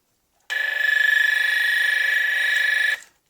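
An AIMO MS6812 cable tracker, freshly repaired, emits a loud, steady, high-pitched pulsing tone for about two and a half seconds, then stops cleanly, with no other sounds around it.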